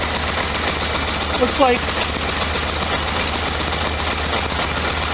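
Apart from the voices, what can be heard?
1973 VW Super Beetle engine idling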